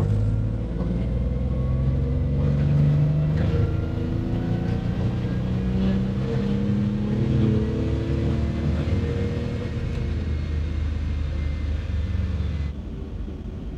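A BMW M57 diesel car engine drones under heavy, sustained load on a dyno with a deep rumble and rising whine, holding steady for several seconds before easing off.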